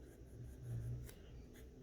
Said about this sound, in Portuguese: É realmente uma experiência muito prazerosa escrever com a Kakuno.